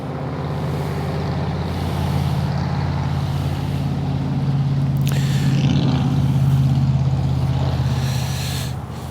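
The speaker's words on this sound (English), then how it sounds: "That truck was like almost brand new, and he had already cut the mufflers off." A nearly new pickup truck with its mufflers cut off rumbles past on a Southern road, a loud low drone swelling as it nears and easing off as it goes, with a brief hiss partway through.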